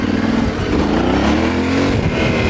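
A Yamaha Tenere 700 adventure motorcycle ridden off-road, its engine loud and close, droning steadily with shifting revs as the rider keeps giving it throttle.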